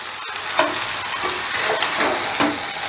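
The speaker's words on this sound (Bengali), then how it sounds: "এবারে সোয়াবিন আর মুড়োটা দিয়েও ধরো আবার 2-3 মিনিটের মতন আমি কষে নেব।" Soybean chunks and fish heads stir-fried in a pan for a murighonto, a steady close sizzle broken by several scraping strokes of a spatula, with no one talking.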